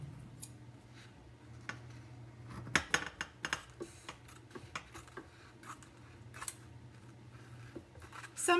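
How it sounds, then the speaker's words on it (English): Quiet, crisp snips of scissors cutting come in a quick irregular series, close by, with faint handling clicks around them. "I'm going to cut this off with my scissors."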